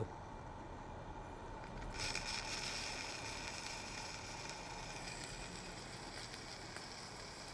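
A model steam locomotive running on test emits a quiet, continuous mechanical whirr and rattle with a steady hiss that steps up slightly after a couple of seconds, faint and close with no speech.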